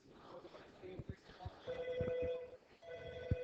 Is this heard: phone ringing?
yes